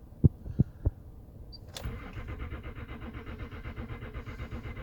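Land Rover Discovery 3 engine in cold weather: three sharp clicks, then a starter cranks with a fast, steady churning rhythm for several seconds, but the engine never catches.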